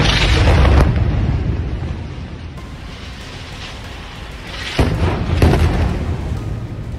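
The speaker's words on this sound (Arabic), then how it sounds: "ويظهر بوضوح صوت الصفير قبل القصف إضافة إلى شدة القصف نفسه" An Israeli airstrike hits the Al-Shorouk tower: a heavy blast booms at the start and fades into a long rumble, then a second loud explosion bursts near the end and leaves lingering debris noise.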